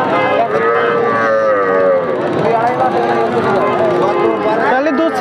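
A young Sindhi-breed heifer calf at a cattle market gives a loud, drawn-out moo close by, holding for several seconds with voices of people talking mixed in.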